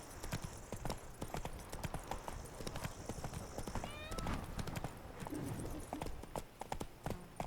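Roach, a horse in The Witcher 3, gallops with steady rapid clip-clop hoofbeats throughout, a brief whinny partway, over ambient game sound with occasional muffled speech.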